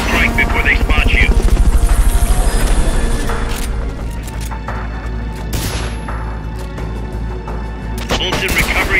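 A helicopter's rotor in the video game Metal Gear Solid: Peace Walker thumps steadily and loudly throughout, with bursts of gunfire and a voice speaking over the engine noise.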